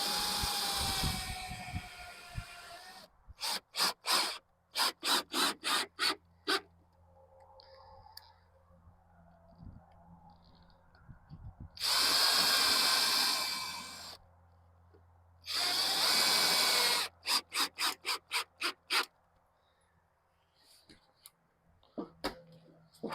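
Power driver running in bursts while screws go into new doors being fitted in an old mobile home, with two long whirring runs among many short clicking pulses, close and loud.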